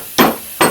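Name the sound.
hammering out old trailing arm bushing on a Grand Prix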